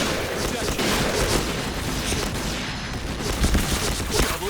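Dense, continuous MPT-76 rifle gunfire in the shooter game Point Blank, loud and close, with overlapping rapid shots and bursts that keep up without pause.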